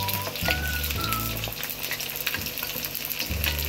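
Softened minced keema frying with tomato paste, a loud continuous sizzle and crackle with scraping stir strokes and low clatters throughout.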